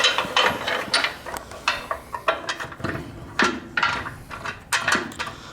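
Bolts being screwed into the power steering box of a 1973 Cutlass produce repeated close ratcheting clicks in short bursts, separated by brief pauses.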